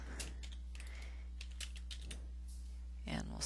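Quick keystrokes clatter on a computer keyboard in irregular bursts, faint and close, over a steady low electrical hum.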